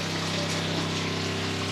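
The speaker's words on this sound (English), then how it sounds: "Bearing in mind my pump is 45 psi, it's a high pressure pump and high flowing pump." A high-pressure 45 psi, high-flow water pump runs in a campervan plumbing system, giving a steady, close mechanical hum with rushing, gushing water throughout.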